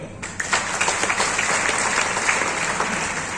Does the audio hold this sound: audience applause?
yes